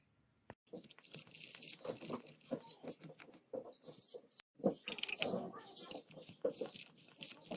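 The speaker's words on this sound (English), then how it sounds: "Now to take this off, you got 1, 2, 3, 4 screws to take off" Small screws being backed out of a Kyosho Fazer MK2 Toyota Tundra RC truck chassis to reach the spur gear and motor mount, giving close, quiet ticks, scrapes and clicks in short irregular bursts with a brief pause midway.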